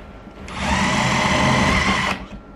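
A Star-M bamboo drill bit bores into bamboo, a harsh, steady whirring grind that swells in, holds loud for under two seconds, then cuts off.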